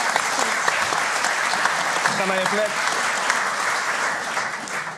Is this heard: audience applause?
yes